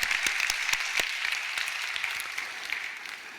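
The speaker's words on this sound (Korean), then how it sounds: "우리 귀한 초등부를 위해서 우리 귀한 박수를 한번 격려합시다" A church congregation claps together during a worship service, a dense burst of applause that holds steady for a few seconds before tapering slightly.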